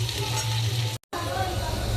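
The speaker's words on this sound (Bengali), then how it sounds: "সব সবজিগুলো ভাজা ভাজা হওয়া পর্যন্ত একটু ওয়েট করবো" Carrots and peas sizzle steadily in a hot frying pan while being stirred, a dense continuous crackle broken by a brief moment of silence midway before the frying resumes.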